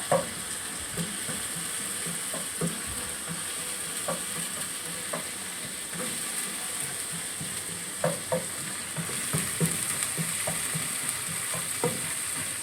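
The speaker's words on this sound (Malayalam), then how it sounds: "ഇത് ഒന്ന് മൂപ്പിക്കുവാണേ അതൊന്ന് മൂത്ത് വരട്ടെ" Crab roast ingredients sautéing in a pan: a steady, close sizzle runs throughout, broken by periodic spatula scrapes and knocks, with no talking.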